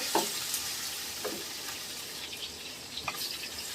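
A steady sizzle of spice masala with Kashmiri chilli powder frying in a pan for potol chingri, pointed gourd with prawns, with a few soft stirring scrapes rising over the constant hiss.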